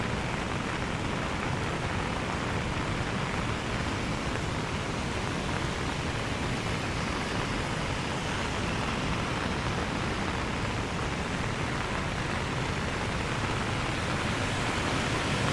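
The Silver Waterfall (Thác Bạc) near Sapa, swollen in the rainy storm season, roars with a constant, dense rush of falling water. It stays loud and unbroken throughout, with no voices.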